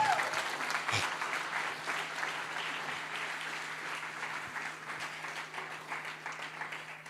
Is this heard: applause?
yes